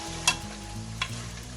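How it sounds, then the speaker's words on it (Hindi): Ground whole spices sizzle softly in a hot pan for aloo gosht while a utensil stirs, with two quick scraping strokes over the low frying hiss. "मसालों को तकरीबन 3 से 4 मिनट तक अच्छी तरह से भूनना है।"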